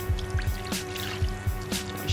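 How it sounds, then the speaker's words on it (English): Water poured slowly onto gold-bearing fossicking material at the Durikai area near Warwick, giving a steady run of close drips and trickling splashes in an uneven rhythm. "So if I just pour the water in there slowly,"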